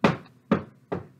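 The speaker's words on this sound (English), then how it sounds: "Before long, there was another banging on the door." Three heavy knocks bang on a wooden door in a steady, evenly spaced rhythm, each one a sharp, loud thud that decays quickly, close by with no voices.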